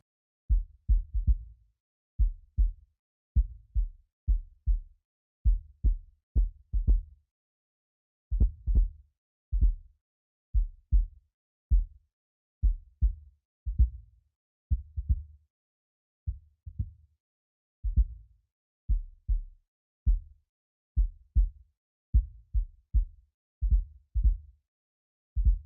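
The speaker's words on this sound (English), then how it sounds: "you can get some nice low sub frequencies for the kick sub channel" Kick drum from Superior Drummer 2 on a sub channel, filtered so only the low sub frequencies remain, plays repeated deep thumps in quick pairs and groups with silent gaps between them.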